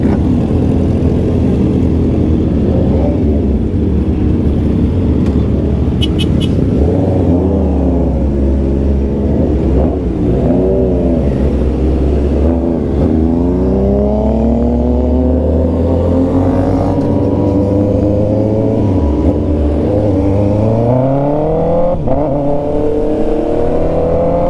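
A Honda CB650R motorcycle engine idles and revs loudly and close, with rising and falling pitch sweeps over a steady low rumble that runs throughout.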